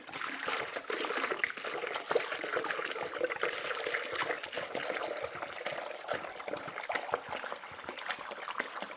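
Steady, close trickle of water from a chick's drinker in a farm brooder, continuous and moderately faint without speech.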